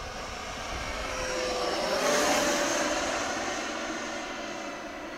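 Electric ducted fan RC plane, a fairly heavy model about 34 ounces, passing at full throttle with a steady whooshing whine that swells as it nears and fades slightly as it moves off.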